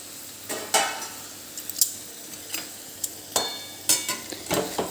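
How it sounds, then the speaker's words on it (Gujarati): An onion and potato curry stirred in a pan, with a series of distinct spoon scrapes and knocks against the metal at irregular intervals over a faint sizzle. "એક વખત આપણે હલાવી લઈશું એને આવી રીતે"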